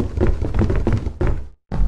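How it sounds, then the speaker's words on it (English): A door in the video game Lethal Company shuts with a series of heavy, muffled thuds and knocks close up, then a brief silence and one more thump. "Stop closing doors behind us!"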